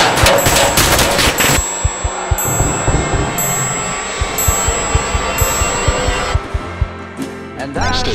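Rapid gunfire rattles through a tense scene in the video game SCP Anomaly Breach 2: a dense, loud burst of shots, then sharper separate cracks spaced about a second apart.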